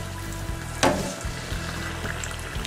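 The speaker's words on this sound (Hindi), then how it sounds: "अब इनको दोबारा से बिल्कुल मीडियम टू लो फ्लेम पे इनको फ्राई करेंगे" Chicken Chinese samosas fry in oil over a medium-to-low flame, a steady close sizzle with a brief brighter burst of crackle early on, and no voices.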